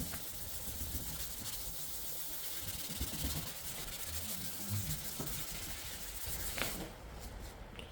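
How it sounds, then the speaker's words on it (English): Steady close-up rubbing and scratchy hissing of wet sanding a car headlight with 800 grit sandpaper, continuous and even, with faint strokes repeating under the noise. "start sanding all over the bits that we've already done before."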